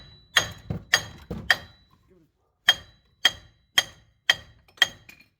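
A hammer taps on the front wheel bearing hub of a 2011 Grand Caravan, striking about nine sharp metallic blows: a quick group of four, a pause, then five evenly spaced hits, loud and close.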